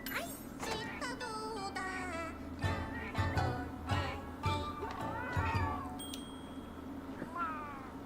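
Palico cats in Monster Hunter Wilds meowing while cooking, several bright, chirpy meows overlapping one another above a low steady background hum.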